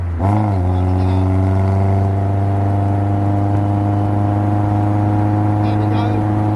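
Steady engine drone of a Sprint 185 self-assembly kit car cruising in top gear at 70 mph, around 3,000 rpm, with strong low harmonics and a faint voice talking over it.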